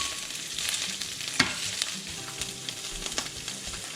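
Garlic scapes sauté in oil in a pan with a steady, close sizzle and scattered popping splatters, one sharper crackle standing out, and nobody speaking.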